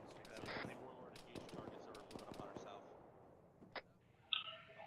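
Rapid bursts of video game gunfire crackle at a distance, with scattered single shots and a faint voice talking underneath.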